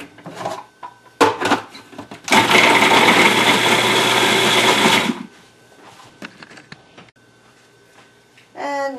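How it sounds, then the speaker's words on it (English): A food processor chopping onions, a loud steady motor whir lasting about three seconds, framed by clattering bumps of the lid and bowl and softer handling noises. "I'm going to put them over here into the food processor. First I've got the onions."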